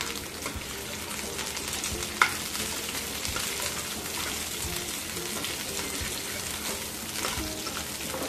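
Okra being stir-fried in a pan, a steady dense sizzle of frying with stirring scrapes throughout and one sharp clink partway through, no voices.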